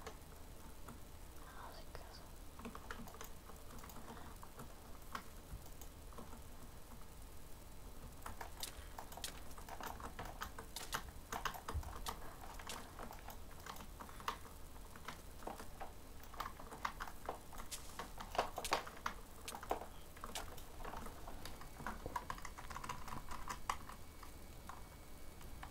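Quiet, rapid clicking of a computer keyboard during a Minecraft EggWars session, faint and irregular with a soft whispering voice in the background.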